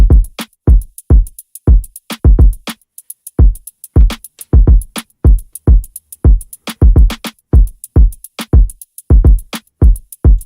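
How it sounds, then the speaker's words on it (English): A vibey Afrobeat-style drum beat with punchy, deep kicks and crisp percussive hits in a syncopated, repeating groove, loud and alone throughout. "I switched the drums up from what it sounded like, the four on the floor beat, to something that's more vibey, I guess. Afrobeat"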